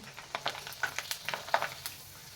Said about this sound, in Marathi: आता आपण या कुरडया तळून पाहूया